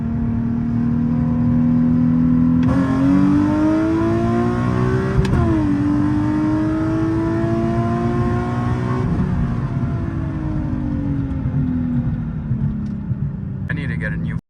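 A big-turbo Nissan 370Z running on E85 accelerates from inside the cabin, its engine note rising steadily through the gears with a brief shift dip, loud droning exhaust and turbo whine, with a voice talking over it.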